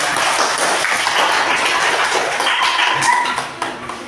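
A classroom of primary school children claps for a classmate during a coding and AI lesson, a busy spread of hand claps lasting several seconds before tapering off near the end.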